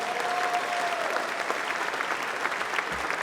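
A crowd at a community center ribbon-cutting event claps for the mayor, a steady wash of many hands applauding throughout, close and fairly loud, with murmured voices blended in.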